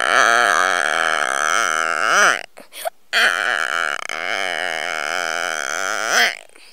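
A person vocally imitates a buffalo with long, drawn-out, wavering moaning calls, loud and close, in two sustained bouts separated by a brief pause.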